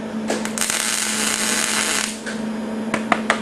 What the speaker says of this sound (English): Always make sure you do 3 or 4 little tack welds first, because welding causes contraction when it cools